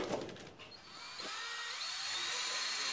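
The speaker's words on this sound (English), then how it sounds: "Next, we're screwing in the uprights into the lower and upper plates." Power drill driving screws to fix the uprights of a round above-ground pool into the lower and upper plates, a whining rising buzz that holds steady and loud after a brief start.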